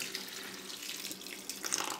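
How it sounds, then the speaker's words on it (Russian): Cold salt brine, two tablespoons of salt per litre of boiled water, is poured over cabbage for kimchi. It makes a steady close splashing trickle of liquid that swells louder near the end, with no talking. "И заливаем нашу капусту."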